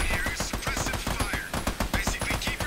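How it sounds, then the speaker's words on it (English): Rapid, steady bursts of gunfire from the player's weapon in the shooter game Army of Two, loud and dense throughout with brief voice traces mixed in. "Oh, I'm shooting more times. So my gun's weak."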